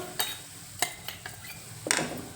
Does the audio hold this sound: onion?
yes